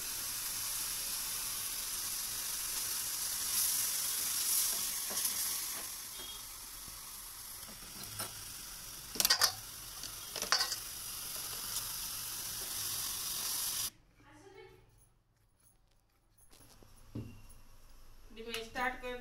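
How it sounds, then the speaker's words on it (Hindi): Pounded chutney frying in a pan in a home kitchen, a steady close sizzle and hiss running throughout with occasional stirring clinks, under someone talking, briefly dropping away before resuming more faintly. "तो यहाँ पे मैंने चटनी कूट ली है, तभी इसे मैं तल लूँगी।"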